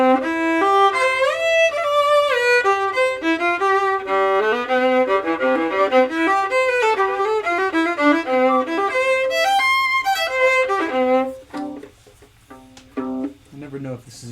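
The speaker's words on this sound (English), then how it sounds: "Here's the sound of the violin with no effects on." A Glasser electric violin plays dry with no effects, picked up by a room mic: a clear, bright bowed melody with sustained and shifting notes, continuing for several seconds before trailing into a few softer strokes.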